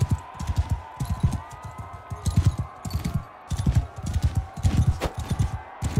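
Horse hooves clop in a steady galloping rhythm in a medieval combat video game, loud and close, with no voices.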